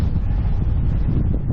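Strong wind buffets the microphone while cycling into a headwind, a steady, loud low rumble that persists throughout with no letup.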